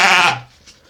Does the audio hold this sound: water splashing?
no